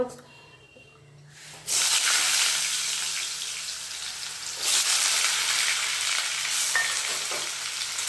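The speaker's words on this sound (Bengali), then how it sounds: "ভেজে নেব, আমি এই তেলে আলুটাকে ভেজে নেব।" Diced potatoes hit hot oil for alu jhinge posto: after a quiet start, a loud, dense sizzle bursts up close and keeps hissing, surging again midway as the pieces are stirred.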